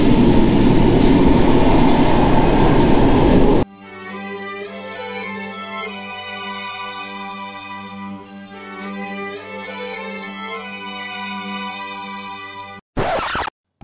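Manchester Metrolink tram running on its rails, a steady rolling drone with tonal hum alone, following a loud broadband noise burst at the start and cut off by a brief loud burst at the end.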